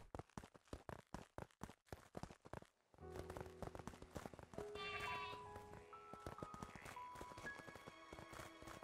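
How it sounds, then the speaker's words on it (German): Sheep trot in the Craftopia video game with a quick run of crisp, evenly spaced hoof clip-clops, then layered tonal game sounds and soft bleats take over. "Ich höre gerade Fußgetrappel. Aber das waren nur die Schafe."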